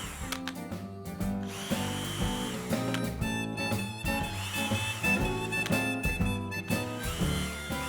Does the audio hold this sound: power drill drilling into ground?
yes